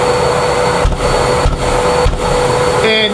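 A tool-actuated DeWalt shop vacuum runs together with a saw in a carpentry workshop, giving a loud, steady whining roar with a few brief dips in level.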